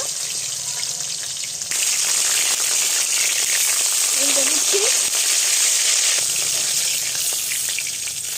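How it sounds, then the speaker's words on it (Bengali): Salt-and-turmeric-rubbed bhetki fish frying in oil gives a steady, close broadband sizzle that runs through the whole stretch, with a brief spoken voice heard over it. "প্রথমে শুধু মাছটা ভেজে নেব"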